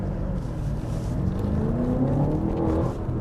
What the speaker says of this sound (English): We're going to drive this thing until we park it.